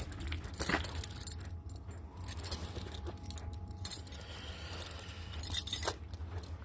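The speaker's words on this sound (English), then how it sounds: "Got my keys" A bunch of keys jangles and clinks in several bursts close by, over steady rumbling background noise, with no talking.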